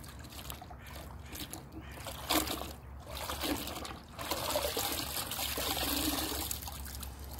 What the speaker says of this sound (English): I'm gonna just dunk it in this water.